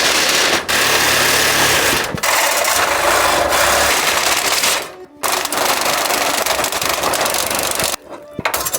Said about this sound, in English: but I do have my Sawzall.